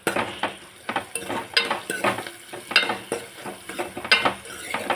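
Onions and green chillies with salt are stirred in a pan, a spoon scraping and clinking against the metal in quick, steady strokes over a light sizzle, close and without talk.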